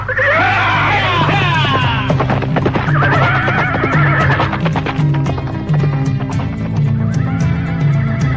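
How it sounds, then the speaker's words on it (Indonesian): A horse neighs loudly three times in an audio drama, long shrill whinnies rising and falling over a steady drumming of galloping hooves that runs throughout, close and full. "Menunggang kuda? Betul, Raden. Berpacu sangat kencang."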